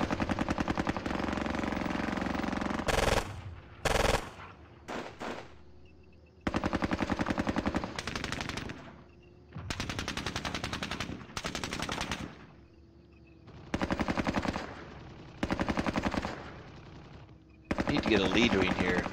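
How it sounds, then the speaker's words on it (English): Gunfire in the wargame Squad Battles comes in loud, dense bursts of rapid rifle and machine-gun shots, broken by brief pauses and quieter stretches of low rumble. "Sporadic rifle fire there in the back of the south"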